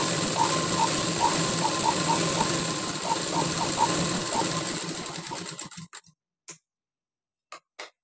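A sewing machine runs steadily while stitching a blouse, with a continuous whirring drone and a regular ticking rhythm that stops partway through, followed by a few short clicks and handling sounds.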